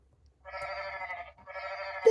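Two drawn-out, wavering sheep bleats play in a row from a children's farm-animal sound-button book, close and clear with a short gap between them.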